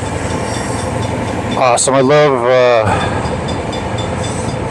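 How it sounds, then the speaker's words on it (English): A long Union Pacific freight train rolls past with a steady, broad rumble from start to finish, while someone speaks briefly over it in the middle. "love these Union Pacific trains"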